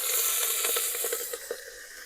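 Drumstick leaves fry in a pan while cooking outdoors in a forest, village style, with a loud continuous sizzle and hiss punctuated by small crackles and pops.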